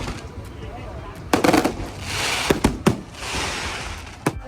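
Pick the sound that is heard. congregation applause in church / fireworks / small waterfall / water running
fireworks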